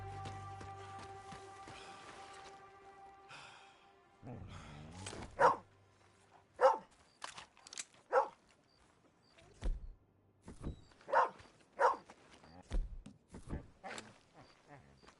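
A dog barking in the Red Dead Redemption 2 video game, several separate barks spaced across the stretch at moderate distance, mixed with other quiet in-game sounds.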